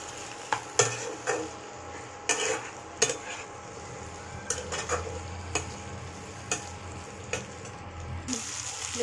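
Fried prawns being stirred into a potato curry, quiet sizzling beneath repeated sharp spoon clicks and scrapes against the pot at an irregular pace.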